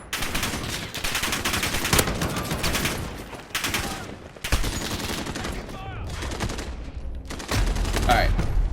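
Sustained full-auto fire from an Oden rifle in Modern Warfare, loud dense bursts of rapid shots running nearly the whole time with brief pauses between strings of fire.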